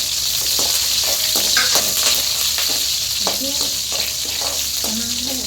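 Onion, curry leaves and fenugreek sizzle steadily in hot oil for a dried fish curry, with a loud continuous hiss and several sharp stirring clicks and scrapes against the pan.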